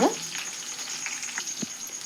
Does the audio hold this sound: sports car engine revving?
no